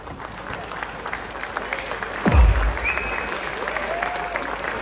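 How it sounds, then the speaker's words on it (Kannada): Audience applause at the Karnataka Ratna award ceremony, a sustained broad wash of clapping throughout with a brief louder thump midway, crowd-wide and moderately loud. "ದಯಮಾಡಿ ಎಲ್ಲರೂ ಎದ್ದು ನಿಂತು ಒಂದು ಚಪ್ಪಾಳೆ ಕೊಡಬಹುದಾ?"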